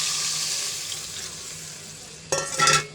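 Water poured into a pan of frying egg curry, a steady bright sizzle that suddenly erupts into a louder, hissing splash near the end, heard up close with no talking.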